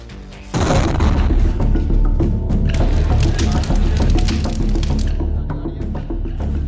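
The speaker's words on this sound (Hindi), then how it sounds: "जोरदार धमाके ने पूरी दिल्ली को दहला दिया।" Loud car blast in Delhi near the Red Fort metro station gate, erupting suddenly after a brief lull into a sustained, rumbling roar with crackling debris and clatter that stays heavy and close for several seconds.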